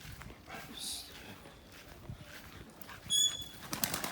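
Pigeon wings flap in a few quick, rustling bursts, loudest near the end, against a faint murmur of voices and background noise.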